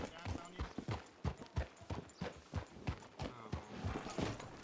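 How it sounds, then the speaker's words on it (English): Horse hooves clip-clopping in a roleplay video game, a steady series of close, distinct thuds at a walking pace, with a person talking over them. "This horse is eating me."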